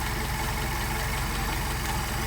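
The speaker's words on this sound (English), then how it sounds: "Now it's running about 500 RPM, a little low, but I'll give you an idea how nice the carburetors will operate." A car engine fitted with Solex carburetors idles low at about 500 RPM, a steady, loud, even rumble filling the whole stretch with no voices.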